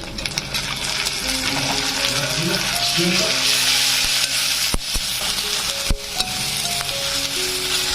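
Chopped onions fry in a pan until reddened for a fish-head moong dal, a continuous loud sizzle with occasional metallic clinks from stirring.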